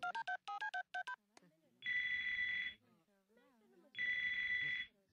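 A cartoon telephone in Family Guy rings in two long, bright electronic bursts, preceded by a quick series of dial-like tones, with people talking in the gaps between rings.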